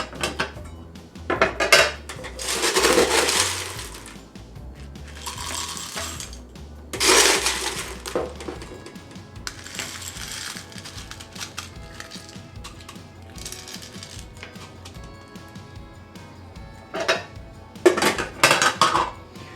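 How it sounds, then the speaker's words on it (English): Crushed ice is scooped and poured over a tiki drink in a tall zombie glass, making loud rattling, clinking bursts that come in several clusters with quieter glassy handling between them, and no talk. "And of course we're gonna top it off with more crushed ice."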